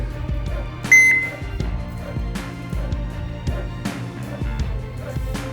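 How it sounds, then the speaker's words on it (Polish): A single sharp electronic beep from a Videotronic fishing bite alarm rings out once amid handling clicks and low background hum. "Gdy go wciśniemy, sygnalizator da nam sygnał"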